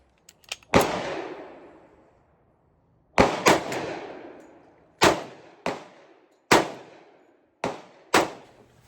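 Seven sharp gunshots from a Para Ordnance Slim Hawg .45 compact 1911 pistol ring out outdoors: an early single shot, then irregular spaced reports, each with a loud crack and a decaying echo tail.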